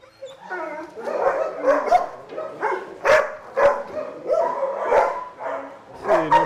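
A police canine unit dog barks and whimpers up close in a loud, uneven run of yips, whines and barks with no clear talk over it.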